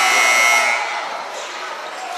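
A basketball game's buzzer sounds at the end of the first half in a high school varsity gym, a bright sustained tone over loud crowd noise and commentator talk, fading into continued murmur.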